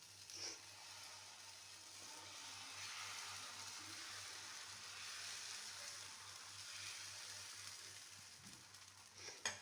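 A dosa fries on a hot pan with a steady, soft, even sizzle that runs without a break over a low hum.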